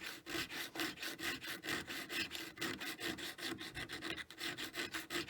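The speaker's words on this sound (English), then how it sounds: "Now I'm filing across the ring here to blend it because I have no choice." Steady, rhythmic rasping strokes of a metal file dragged across a ring resting on a jeweler's bench pin, close and clear with no talking.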